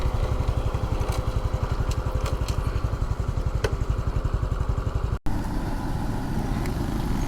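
Motorcycle engines idle in a parking area at a hillside temple site in Pattaya, Thailand, a close, loud, rapid pulsing putter that cuts briefly and resumes with a rougher chug.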